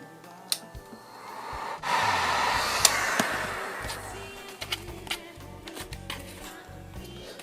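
Heat gun blowing steadily on Worbla thermoplastic mask pieces, a breathy close hiss that swells and holds, with scattered clicks and handling rustles around it.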